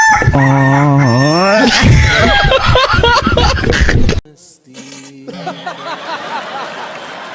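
A rooster crows as a comic sound effect, a loud drawn-out cock-a-doodle-doo with rising and falling pitch that fills the first four seconds, then drops to quieter clucking and noise.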